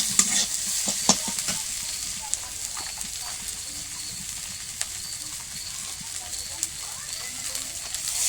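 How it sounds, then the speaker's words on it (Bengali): Spice masala with chopped tomato sautés in a pan with a faint, continuous sizzle, broken by occasional light clicks of a stirring spoon. "তো আমি এখানে কষিয়ে নিয়েছি মশলাটাকে"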